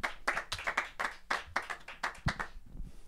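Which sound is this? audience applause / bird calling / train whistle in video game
audience applause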